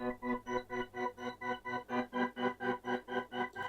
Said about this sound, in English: Now this is more of a gate effect